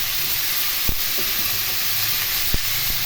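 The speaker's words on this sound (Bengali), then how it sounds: "এগুলো খুব ভালো করে নেড়ে নেড়ে ভেজে নিয়ে এর মধ্যে ঝিঙে এবং বরবটি দিয়ে দিলাম" Ridge gourd and long beans fry in a pan with a constant loud hiss and sizzle, broken by a couple of sharp spatula knocks, with no talking.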